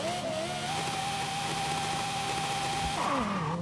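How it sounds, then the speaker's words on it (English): High-revving car engine in Forza Horizon 5 on a Baja build that makes its power near 9,000 RPM, a steady loud drone that bogs down off the line, pitch holding flat and then dropping and shifting near the end. "You see it bogs down really hard off the line, even revving it to the max."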